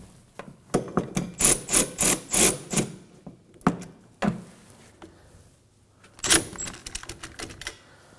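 Strut mount nuts on a 2016-2020 Kia Sorento front strut and spring assembly being snugged up with a hand tool, a close series of sharp, rhythmic ratcheting clicks in several bursts, then scattered quieter clicks, with no talking.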